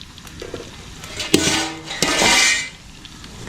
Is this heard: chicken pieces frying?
yes